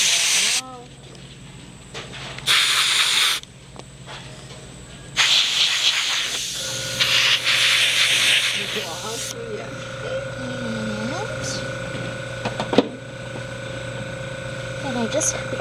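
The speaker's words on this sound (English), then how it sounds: "because I'm stopping with the sprayer for a second, I just have to spray some cleaner through it here" An airbrush sprayer used for face painting at a children's birthday party hisses in several bursts, loud broadband spurts of spray with short gaps, then a steadier softer hiss under a continuous background hum.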